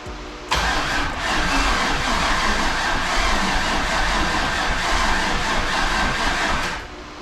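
A C5 Corvette engine fires up for its first start after a cam swap, catching abruptly and settling into a loud, steady, rough-edged idle nearby that runs for several seconds before cutting back down.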